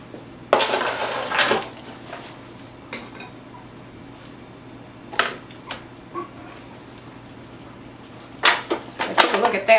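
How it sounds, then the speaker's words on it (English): Seafood mac and cheese being poured and scraped from a pot into a prepared pan, with bursts of metal-on-metal clatter and scraping at the start, middle and end and quieter handling sounds between. "now I'm going to pour it into my prepared pan"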